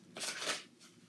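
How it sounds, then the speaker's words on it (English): Quick riffle of ASL tarot cards shuffled by hand, two or three soft papery bursts within about a second, faint and close, with no talk. "so we're going to shuffle these by hand."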